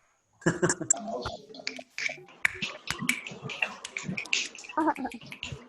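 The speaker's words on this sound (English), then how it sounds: "ask everyone to unmute and snap your fingers" Many participants on an online design and technology salon call snap their fingers together, producing a dense, irregular flurry of overlapping crisp snaps that continues steadily for several seconds, with faint voices mixed in.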